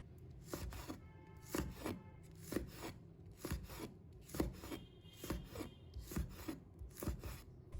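A knife chops small red chili peppers into rings on a cutting board, a steady run of close, crisp cuts in quick bursts with short pauses, no talking.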